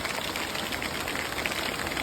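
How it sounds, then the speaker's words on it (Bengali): Rain falls steadily outdoors near a stove where chicken khichuri is cooking, a dense even hiss that stays constant throughout with no voices. "বৃষ্টি হচ্ছে"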